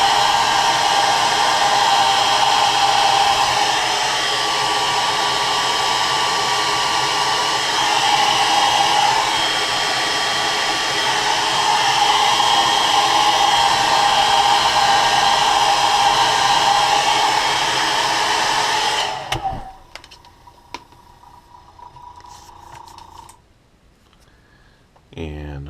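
A heat gun sets fresh paint on a walleye-pattern crankbait lure, blowing with a loud, steady whir for about nineteen seconds before it cuts off, leaving faint clicks.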